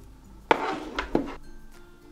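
Plastic toy knife slicing through play-dough food toys such as a fish being cut into pieces: two soft, close chopping taps about half a second apart, with nothing else going on.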